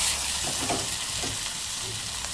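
Garlic and masoor dal fry in a little oil, giving a steady, close hiss of sizzling with a few soft stirring scrapes, and no voices.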